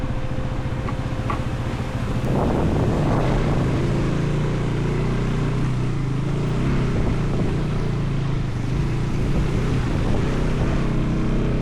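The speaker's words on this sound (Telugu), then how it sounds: "ఇంకొక వాటర్ క్రాసింగ్ అయితే వచ్చింది ఇక్కడ" On a rough mountain road to Spiti, a motorcycle engine drones steadily and loudly while the bike rolls through a water crossing, with splashing and wind noise mixed in and no voices.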